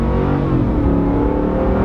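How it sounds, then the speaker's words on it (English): A car accelerates hard while merging onto a freeway, its engine note rising in a loud, continuous, close roar with steady road and wind noise underneath. "We're gonna merge onto the freeway here, floor it."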